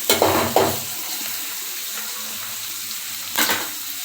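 Onions and green chillies fry in a pan for a Tamil tomato thokku, giving a steady low sizzle with a few louder bursts of crackle near the start and again near the end, with no talking.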